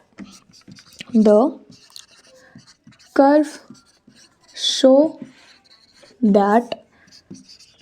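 Chalk or marker scratches on a classroom board during a Hindi-English physics lesson on binding energy per nucleon, soft and intermittent between bursts of a man's close, clear lecturing voice.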